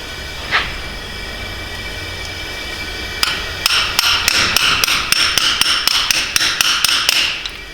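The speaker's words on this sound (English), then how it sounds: "And now I'm just going to use 15mm socket to push it all the way in." A valve stem seal on a BMW N46/N42 engine driven into place with a 15mm socket: after a brief quiet stretch, about a dozen sharp, evenly spaced metallic taps ring out close and loud, with no talk.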